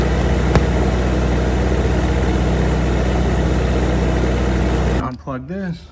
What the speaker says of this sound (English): Here's my engine running with the radiator cap removed.